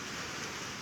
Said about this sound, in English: What you hear is the rain hitting the roof